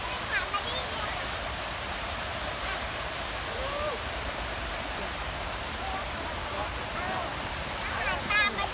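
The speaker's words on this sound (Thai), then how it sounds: "ถ้าเรามาเที่ยวสวนรถไฟเราจะเจอน้ำตกแบบนี้ใช่ไหมคะ" A waterfall in Suan Rot Fai park, Bangkok, gives a steady, even rush of falling water at moderate distance. Faint high chirps or voices surface briefly over it.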